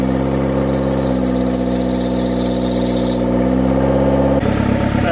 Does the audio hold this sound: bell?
no